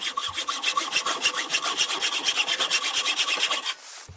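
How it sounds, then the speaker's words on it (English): A hand saw cuts through aluminium pins set in a wooden knife handle, giving a fast, even rhythm of rasping back-and-forth strokes, close and steady for about four seconds before stopping. "I saw off two aluminium pins that go through the wood and the handle"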